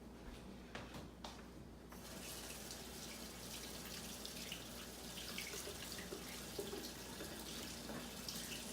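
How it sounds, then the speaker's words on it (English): Hands rinsed under a running kitchen tap while cooking sea bass: a few soft knocks, then a steady, fairly quiet rush of water that runs on without pause. "let me rinse my hands again."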